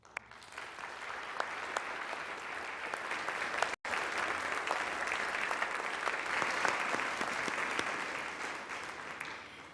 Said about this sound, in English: let us all welcome them with an applause